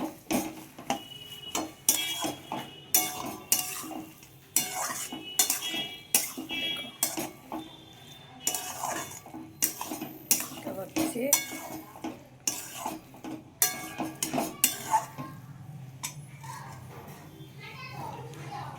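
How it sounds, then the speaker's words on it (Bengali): A spoon scrapes and clatters in a pan while mashed cabbage bhorta, seasoned with garam masala, is stirred; the knocks come in quick irregular bursts, close, with voices murmuring in the background. "একটু নেড়ে চেড়ে নামিয়ে নেব"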